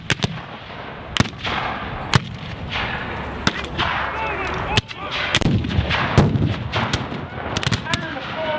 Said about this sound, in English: Cannon are forced to play